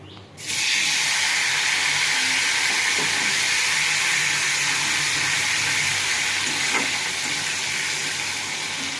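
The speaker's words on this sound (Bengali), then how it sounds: "জিরেটা একটু ভাজা ভাজা হয়ে গেলে টমেটোটা দিয়ে দেবো।" Tomato dropped into hot oil with cumin for a chitol fish curry sets off a loud, steady sizzle that bursts in after a brief quiet start and holds strong throughout, with no talking.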